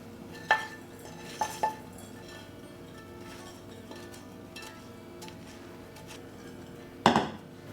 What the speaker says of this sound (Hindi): चलिए ठंडा होने के लिए हम एक बर्तन में निकाल लेते हैं इसे।